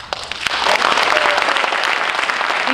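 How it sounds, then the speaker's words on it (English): A debate audience applauds, a loud, dense wash of many hands clapping that starts quickly and holds steady for the whole stretch, with a voice faintly heard beneath. "Hold your applause."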